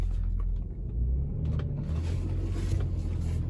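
A BMW X5 with a 6-speed manual gearbox creeps forward in gear, giving a low steady engine rumble close by that builds slightly partway through, with no talking.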